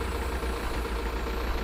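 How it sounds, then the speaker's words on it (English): Car engine idling steadily during an alternator check, a quiet, even low hum with a faint regular pulse and no talking. "We then have to leave the engine running for about 5 or 10 minutes"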